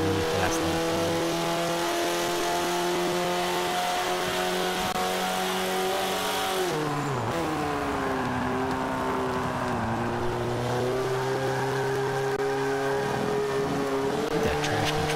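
A race car on a fast lap in Forza 5, its engine screaming at high revs with steady tonal whine, a sharp downshift midway, then climbing again, loud and continuous with no talk.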